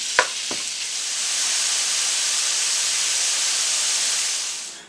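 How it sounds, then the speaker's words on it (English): Beef pieces browning in a pan of melted olive oil and butter give a steady, moderately loud sizzle that swells after a couple of sharp knocks as the meat goes in, with no talking. "We're going to add our beef. And we're going to cook that on all sides until brown."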